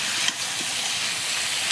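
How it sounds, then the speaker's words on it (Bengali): Vegetables frying in oil with salt and turmeric for lentil dal, a dense close hissing sizzle that holds steady throughout with a brief tap near the start, no talk. "নুন হলুদের সঙ্গে সবজিটা খানিকক্ষণ ভেজে নেবো"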